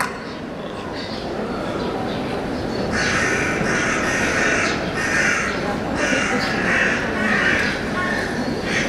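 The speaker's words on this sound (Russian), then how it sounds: "Там была большая стая ворон," A large flock of crows caws repeatedly and loudly in an outdoor setting, harsh calls overlapping in bursts over steady background noise.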